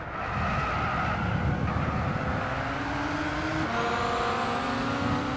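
A Pagani Huayra supercar in the Gran Turismo 6 video game roars at full throttle, a loud sustained engine note rising in pitch through gear changes with a sharp shift near the end, no voices.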